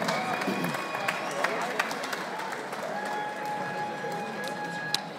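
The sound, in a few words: audience applause for boxers after bout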